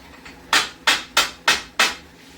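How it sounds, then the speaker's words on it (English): Ramekins of dessert mixture are knocked against a hard surface to release trapped air, producing five sharp, evenly spaced taps up close, with no talking. "All you gotta do is tap them."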